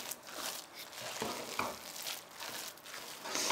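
Bacalhau à Brás sizzles steadily in a frying pan as it is stirred, giving a continuous crackling hiss with soft scraping strokes, close and fairly quiet, with no talking.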